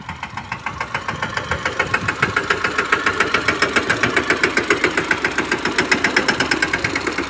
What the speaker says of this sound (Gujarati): હવે આ ટ્રેક્ટર હાંકે એકલો.